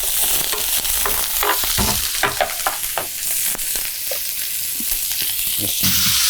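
Onions fry in oil in a pan with a loud, close sizzle and frequent stirring clatters and scrapes throughout, nobody speaking.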